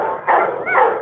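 A dog gives two short, loud yipping barks close by, one right after the other.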